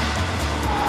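Supercharged Honda-engined track car, the KTM X-Bow, driving fast with a loud, dense engine roar and tyre noise in one brief continuous burst.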